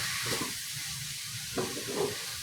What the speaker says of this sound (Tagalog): Igisa lang muna natin ito.